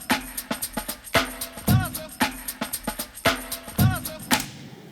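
Drum break sample lifted from a funk song: a loud, crisp breakbeat of punchy kicks, sharp snares and busy hi-hats looping in a steady groove, with brief vocal shouts over it.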